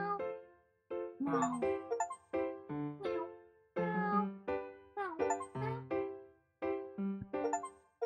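Cartoonish cat meows from the video game Cats Hidden in Paris repeat in quick succession, many short mewing calls overlapping in a steady stream, fairly close and clear.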